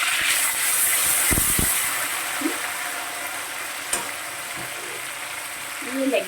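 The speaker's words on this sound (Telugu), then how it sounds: "ఫ్రై చేసేద్దాం ఫస్ట్." Chicken leg pieces frying in a pan with onions and chillies give a steady, loud hiss and sizzle throughout, broken by a few sharp stirring clatters and a brief louder burst near the end.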